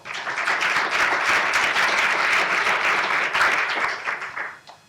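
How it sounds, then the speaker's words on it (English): A large audience at a forum event gives a sustained, loud round of applause for a sponsor, dense clapping that holds steady before tapering off at the end. "Let's give a big round of applause to our presenting sponsor, Wells Fargo"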